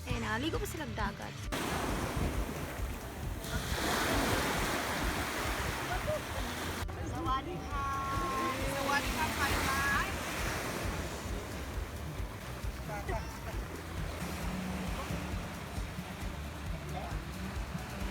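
Surf washes in and out steadily nearby at a beach on a Mati-Maragusan-Pantukan tour, with wind buffeting the microphone and people chattering at times over the waves.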